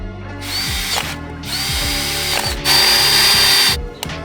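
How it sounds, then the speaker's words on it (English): A power drill bores holes with a step drill bit in a switch bracket for a Porsche 944. Three loud, close bursts of whirring with a ratcheting pitch rise and stop, ending in a brief tail. "First I'm gonna make some pilot holes and then I'll drill out with some step drill bits."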